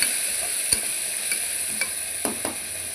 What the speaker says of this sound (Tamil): தக்காளி 3 பழம், அதையும் நல்லா வதக்கிக்கணும்.